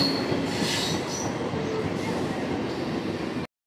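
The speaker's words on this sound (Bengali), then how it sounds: "368 27 আপ হাওড়া বর্ধমান লোকাল, যেটা কামারকুণ্ডু স্টেশনের 2 নম্বর প্ল্যাটফর্মে ঢুকছে" The 36827 Up Howrah–Bardhaman local, an ICF rake of the 13000 series, rolls into platform 2 at Kamarkundu station with a loud, steady rumble of wheels and a thin squeal of braking, before cutting off abruptly.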